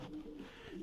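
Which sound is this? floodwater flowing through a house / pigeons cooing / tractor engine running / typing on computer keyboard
pigeons cooing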